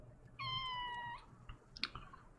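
A house cat gives one clear, drawn-out meow close by, followed by a short, higher chirping call and a few soft clicks in an otherwise quiet room.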